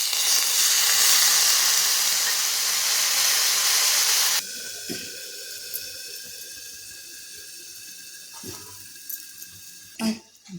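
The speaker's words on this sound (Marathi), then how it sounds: "आपण आता पाण्याचा हपका देऊन एक वाफ काढून घेतलेली आहे" A loud hissing rush of steam as water hits a hot pan of bitter gourd, cutting off abruptly, followed by quieter light clinks and faint sizzling.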